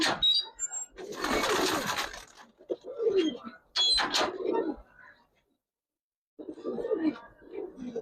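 Giribaz tumbler pigeons coo in short, soft bursts with pauses between them, close by, with some faint chirps and a voice speaking around them.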